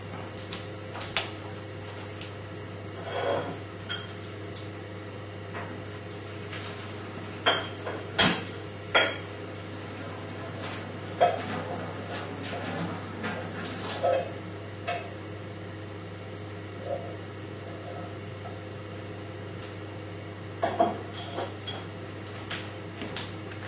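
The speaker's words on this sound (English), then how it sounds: "and we'll get mashing" Boiled potatoes being mashed in a pan back on the hob for a creamy fish pie, heard as scattered knocks and scrapes of a masher against the pan, fairly close but quiet, with no one talking.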